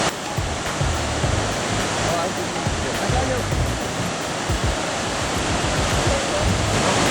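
The roar of Mosi-oa-Tunya (Victoria Falls) in Zimbabwe, heard from a gorge viewpoint near the mist, rolls as a loud, dense, continuous rush of falling water with no let-up.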